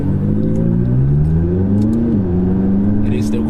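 A McLaren 570S sports car drives along a street past parked cars, its engine droning loudly and steadily up close, the pitch climbing gently before dipping briefly and settling.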